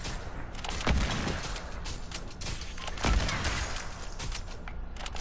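Hunting rifle shots in a video game, a few heavy reports standing out from loud, dense background battle noise, with no voices.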